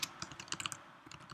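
Rapid clicking of keys on a computer keyboard as a name is typed, a quick irregular run of close, fairly quiet keystrokes with a brief pause near the middle.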